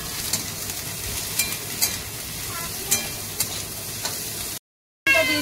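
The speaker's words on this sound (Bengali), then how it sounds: "সব দিয়ে এবার নেড়ে নেব।" Capsicum and cabbage with chillies being stirred in a hot pan for chowmein, a continuous sizzle broken by repeated light scraping clicks of the spoon, briefly cutting out near the end.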